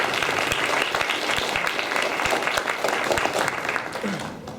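An audience at a college campus event claps steadily throughout, a dense continuous round of applause that fades slightly at the very end.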